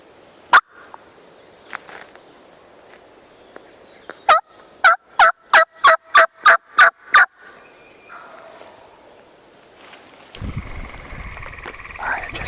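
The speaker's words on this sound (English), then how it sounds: "heard a bird gobble" A wild turkey lets out a rapid, loud burst of about eight gobbles rattling in quick succession in Arkansas, with a few scattered clicks before and rustling noise afterward.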